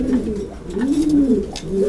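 Pigeons coo softly and close by in a few low, rolling calls, with a faint background hum.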